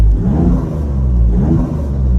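Maserati V6 Nettuno engine in Corsa mode, a loud, close, deep rumbling growl that swells twice, heard steadily through a car interior with no talking.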